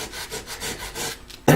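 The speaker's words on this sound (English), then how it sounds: "Sanding the blade, getting the edges" Rhythmic sanding strokes rasp back and forth along a blade's edges about half a dozen times, close and steady, ending with a sharper, louder scrape.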